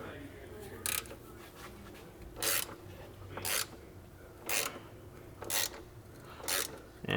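A ratchet tightens the M12 front subframe bolts on a 2014-2018 BMW F80 M3, with bursts of rapid clicking recurring about once a second over a low, steady background.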